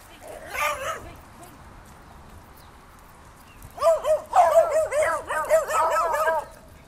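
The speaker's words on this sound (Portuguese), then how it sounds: "E aí, os cães endoidam, né?" Dogs bark and yip excitedly at people walking past on a street, a short burst first and then a longer, denser volley of barking and whining, close and loud.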